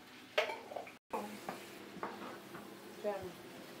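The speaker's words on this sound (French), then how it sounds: "L'oignon que je suis en train de sauter le kebab." Onion sautéing in a pan for homemade kebab: soft sizzling under a few clinks and scrapes of a utensil stirring against the pan, fairly quiet and close, with brief talk.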